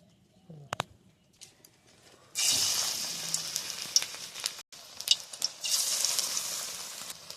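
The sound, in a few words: pui leaf fritters frying in wok on wood stove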